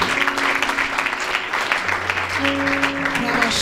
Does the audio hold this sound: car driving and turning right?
no